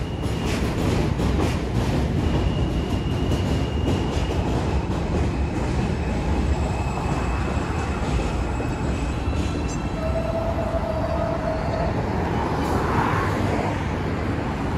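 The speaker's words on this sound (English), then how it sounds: "The J train." A New York City J subway train passes through East New York, Brooklyn, a continuous loud rumble of wheels and cars on the track with a brief squeal near the end.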